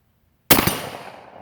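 A single sharp, loud blast from an old used single-shot shotgun fired at a 10-inch square target, followed by a fading, reverberant boom after silence.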